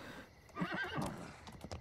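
A horse in The Sims 4 ranch expansion whinnies in a single drawn-out neigh lasting about a second, fairly close and clear, with faint game ambience around it and no talk.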